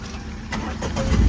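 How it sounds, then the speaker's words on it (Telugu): A 2020 Tata Altroz XZ petrol car engine cranks and turns over, its low rumble building and growing louder toward the end. "సో ఇంజన్ స్టార్ట్ చేస్తున్నా"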